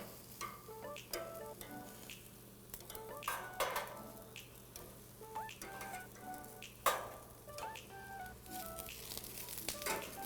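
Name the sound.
squash and vegetables sizzling on a grill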